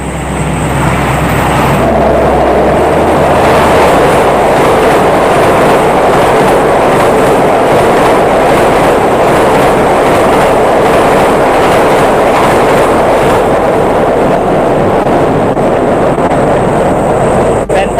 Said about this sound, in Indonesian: Ada kereta ini ya.